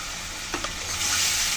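Spice paste with beaten yogurt sizzles loudly and steadily in a pan for a prawn kalia, with a brief stir clink partway through and no voices.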